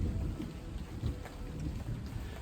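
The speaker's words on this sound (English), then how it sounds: "as I hear thunder cracking down above me" Low rumbling thunder rolling overhead outdoors at Animal Kingdom Lodge's Jambo House, a faint continuous rumble under a wash of rain-like hiss, with no talk.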